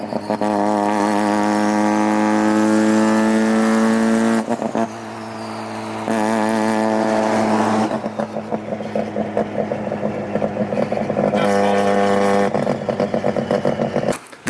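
A loud Mazda RX7 street car engine revs hard, with strong sustained blasts that drop off sharply and climb again several times, all close to the listener.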